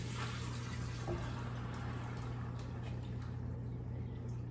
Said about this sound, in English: And we're gonna add the water.